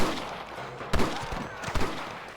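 Sniper gunfire in Red Dead Redemption: two sharp, fairly close cracks about three quarters of a second apart, each followed by a short decay and trailing rumble over low ambient game noise.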